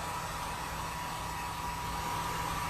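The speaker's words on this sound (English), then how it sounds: "So before we add anything else, I'm going to just dry it a little bit. Malia says, looks great. Yes, heat gun it." Heat gun blowing over freshly painted furniture to dry it, a steady droning whir with a constant hum, close and unbroken from start to end, without speech.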